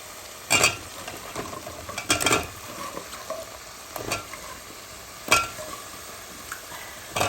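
Spices sautéing in a pan for a turnip and fish curry: a soft continuous sizzle broken by repeated scraping stirs and metallic clinks of a spoon against the pan, close and alone.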